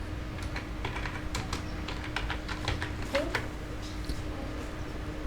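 Computer keyboard keys are tapped in quick irregular bursts close up, a clear clatter of individual keystrokes typing a search, with a faint steady hum underneath.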